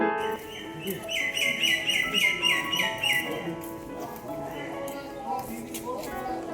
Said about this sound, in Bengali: পাখির কুজনে পুরো পরিসরটা মেতে উঠেছে